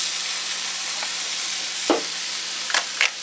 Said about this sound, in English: All right, let's lay this patty down